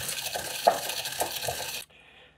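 Eggshells crushed by hand in a kitchen bowl, a close, continuous crackling and crunching with a few sharper cracks, stopping abruptly near the end.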